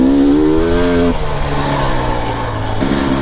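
A GasGas EC300 two-stroke dirt bike engine revs hard while climbing a hill in first gear, a loud, close buzzing drone whose pitch shifts and drops as the throttle changes.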